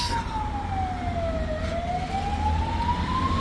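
An ambulance siren wails in a slow falling and rising tone, moderately loud over road traffic rumble.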